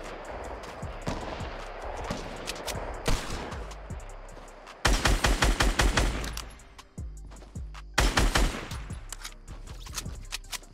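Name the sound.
gunfire in a battle royale video game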